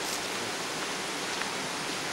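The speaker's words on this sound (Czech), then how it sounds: "To je úplně vodopád k tomu mlejnu." Waterfall pouring down toward an old water mill on a millers' trail, heard as a steady, unbroken roaring rush at close range with no other sounds.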